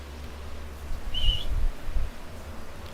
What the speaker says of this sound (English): I was just whistling that